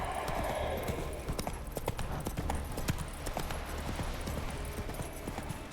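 Roach, a horse in The Witcher 3, gallops with a fast, steady clip-clop of hooves that runs close and loud from start to finish over a low rumble of ambient noise.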